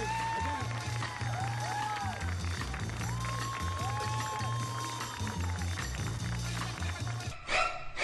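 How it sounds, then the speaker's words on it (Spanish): Studio audience applause on a Peruvian political talk show, dense sustained clapping under music and voices, with a brief break near the end. "Un aplauso para Carlos Álvarez"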